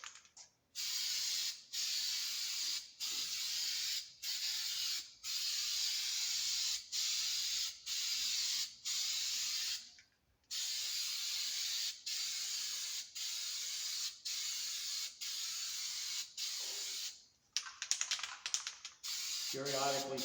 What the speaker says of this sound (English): I'm going to switch to a spray can.